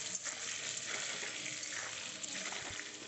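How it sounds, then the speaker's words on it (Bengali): Small-cut potatoes with turmeric and salt browning in oil, a steady soft sizzle heard close, with faint stirring movements and no pause. "ওই তেলের মধ্যে আলুটাকে একটু লাল করে ভেজে নিচ্ছি"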